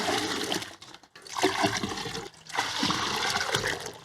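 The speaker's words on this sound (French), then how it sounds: "je vais tout remettre mon petit lait dans mon gros chaudron" Whey from homemade halloumi cheese pours back into a large cooking pot, a close, rushing splash in two long pours with a brief pause between.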